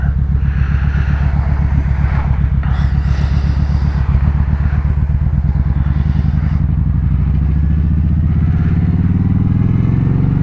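A 1977 Harley-Davidson Ironhead Sportster is ridden on a road past construction, its engine a loud, continuous low rumble with a rhythmic pulse, shifting pitch as it accelerates, with wind buffeting the microphone.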